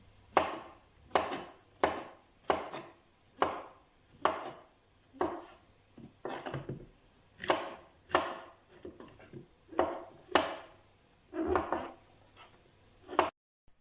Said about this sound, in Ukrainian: Поки морква з цибулею тушиться, наріжемо шампіньони у довільній формі